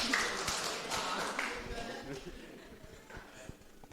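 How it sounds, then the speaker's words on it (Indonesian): A church congregation during a Sunday sermon gives a short burst of hand clapping that fades out, with a voice talking over it and sharp claps standing out near the end. "Kita kasih tepuk tangan."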